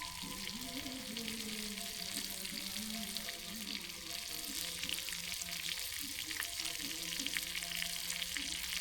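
Butter sizzles steadily in a pan for chicken fry, cooked outdoors behind a village house in Konkan; a constant bright hiss with faint stirring clatter runs throughout, without speech.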